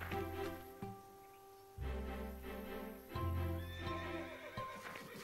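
A cartoon horse on a ranch whinnies loudly and repeatedly, with clip-clopping hooves and background music filling the stretch between neighs; no one speaks.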